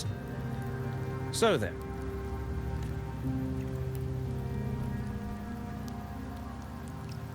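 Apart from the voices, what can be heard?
rain falling, from video game Wuthering Waves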